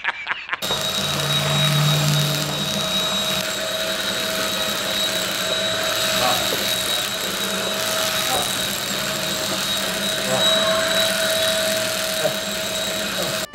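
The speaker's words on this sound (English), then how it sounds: "But let me get to vacuuming." Vacuum cleaner running over a rug indoors, a steady loud whining drone with a constant tonal hum that starts abruptly and holds throughout.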